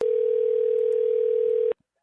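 A steady telephone dial tone drones loudly and evenly after a dropped phone call, then cuts off abruptly near the end, leaving silence.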